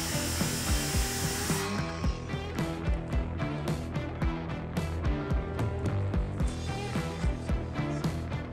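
A track saw cuts through a log to square its sides into lumber in a backyard sawmill setting, giving a continuous close, loud whine with rhythmic bumps and pulses as the blade works through the wood.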